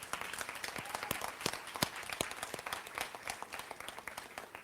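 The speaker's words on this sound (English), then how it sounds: "Can we give them a round of applause?" Scattered applause at a 2021 graduation ceremony, a modest number of hands clapping with distinct individual claps, fairly faint and thinning toward the end.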